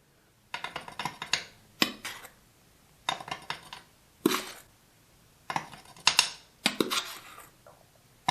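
A household spoon scraping and clinking against a sink drain while baking soda is dumped in, heard as clusters of close metallic taps and rattles separated by brief pauses, with no talking.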